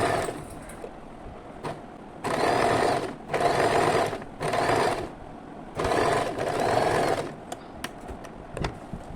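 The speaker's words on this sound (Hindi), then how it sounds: "यहाँ पर एक स्ट्रेट सिलाई लगा देनी है। और ये कपड़ा उस तरफ को होना चाहिए, ऊपर की तरफ, और कपड़े को खींचते हुए सिलाई लगानी है।" A sewing machine runs a straight top stitch along fabric for a baby frock in four steady, loud bursts of rapid whirring, separated by short pauses.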